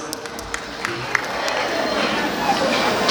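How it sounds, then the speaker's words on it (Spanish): At a civil wedding celebration in Ameyaltepec, guests clap and cheer for the newlyweds, a broad wash of crowd noise that builds steadily, with scattered sharp claps. "fuerte el aplauso para los novios"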